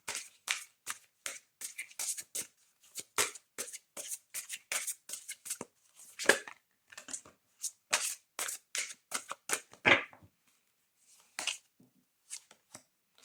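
Oracle cards are handled and shuffled close by in a quiet room, a string of soft riffles, taps and slaps with brief pauses and no speech.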